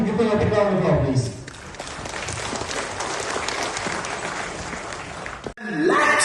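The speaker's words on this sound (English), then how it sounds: "So let me give them a big round of applause," Audience applause at a felicitation event, a loud, dense crowd clapping for about four seconds, starting right after a voice and cutting off abruptly before speech resumes.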